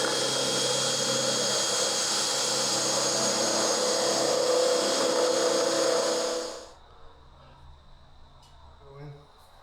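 A power drill bores a hole in a pallet for a fuel transfer pump stand, whirring loudly and steadily for several seconds before stopping abruptly, followed by faint handling noises.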